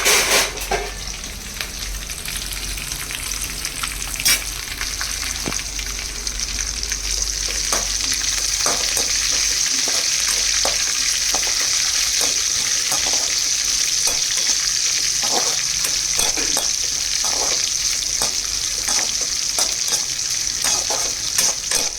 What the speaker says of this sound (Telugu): తర్వాత ఎండుమిరపకాయలు, ఆనియన్ వేస్తున్నానండి. సో ఇవన్నీ ఫ్రై చేసుకోవాలి.